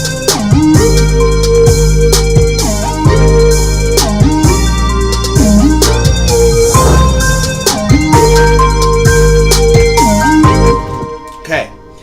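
The hook section of a song plays loud and dense during mixing in Reason 10, with a heavy low end, repeating melodic phrases and what sounds like a vocal line over steady beats.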